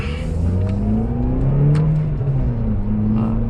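A 2002 Ford Puma with the 1.7 engine accelerates along Beachy Head Road, its engine note rising steadily through the gears, loud and continuous from inside the car.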